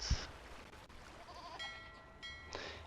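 Sheep bleat in the Age of Empires 2 video game, a short burst at the start and another near the end over a faint game soundscape with tonal chimes in between.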